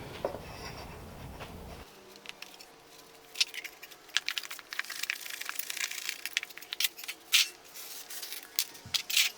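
Mineral wool insulation for a rocket stove bio-char reactor is cut, producing close, crisp crunching and tearing snips in irregular bursts after a brief quieter start, with no talking.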